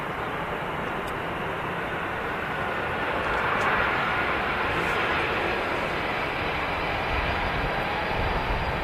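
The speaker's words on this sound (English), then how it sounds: "Which is very strange for the aircraft to transition over to the other runway." Aircraft on the runway at Manchester Airport, a broad, steady roar of jet engine noise heard from a distance, swelling slightly midway and holding constant throughout.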